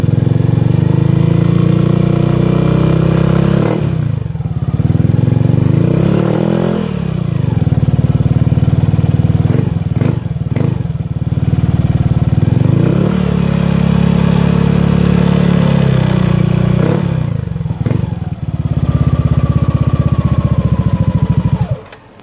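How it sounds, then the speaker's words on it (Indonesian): A Yamaha Aerox 155cc scooter fitted with an R9 Misano racing exhaust idles loud and close, blipped repeatedly into short revving bursts that fall back to a throaty idle. "kita simak suara dari R9 Misano series Yamaha Aerox 155cc Movie Star Blue."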